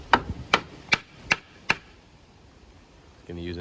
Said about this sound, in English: Now he's going to put another piece of wood on top and hammer it in like that